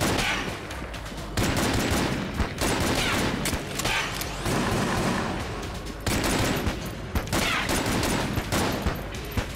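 Dense bursts of gunfire in the Enter The Gungeon video game come in loud, overlapping volleys with short breaks between them, over a busy backdrop of game effects.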